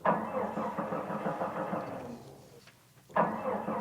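A car engine cranks with a rough, repetitive churning that dies out into near silence, then the starter whirs again briefly, in a live old-time radio drama performance.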